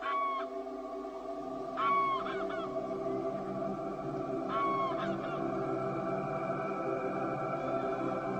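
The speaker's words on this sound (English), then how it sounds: "Grey-lag geese fly in for breakfast to search the rich marshland areas." Greylag geese honk in short clustered bursts over Doñana marshland at dawn, several calls overlapping near the start and again midway against a steady bed of ambient background noise.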